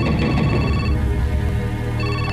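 A phone rings loudly and continuously with a bright, warbling electronic tone, no speech over it.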